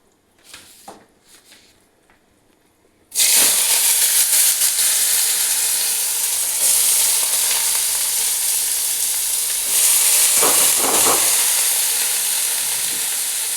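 Onions frying in oil with sugar for a meat dish, a loud steady sizzle that bursts in after a quiet start and holds strong, with brief stirring scrapes and no talk.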